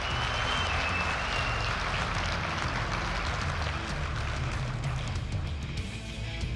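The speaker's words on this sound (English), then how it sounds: "let's make a loud round of applause for this year's Lucas Oil Sportsman Champions" A large banquet crowd at a drag racing awards dinner gives loud, continuous applause for the year's sportsman champions, a dense, even roar of clapping that thins slightly near the end.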